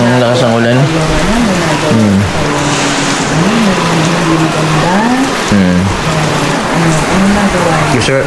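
Heavy rain pours down in a steady, loud, full hiss that runs unbroken from start to finish, with voices talking over it throughout.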